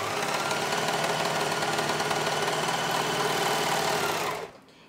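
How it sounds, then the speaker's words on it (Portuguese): An overlock serger stitches fabric pieces together for a patchwork curtain, running as a steady, loud, fast mechanical whir for over four seconds before stopping abruptly. "o legal de estar usando a overlock é o seguinte"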